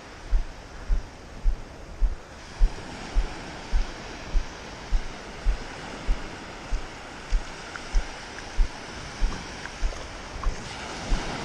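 Surf rolling in and breaking on a cold, foggy beach: a steady broadband wash with soft, regular thumps every second or so, close by, with no voices.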